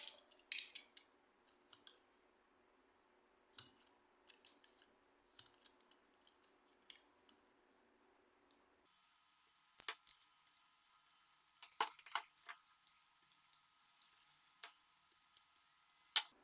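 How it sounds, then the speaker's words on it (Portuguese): A utility knife scrapes the head joints of a stop-motion doll with sparse, faint, uneven scratches and small clicks, quiet and close, with no talking. "Eu posso também usar um estilete."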